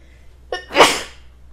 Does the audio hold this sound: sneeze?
yes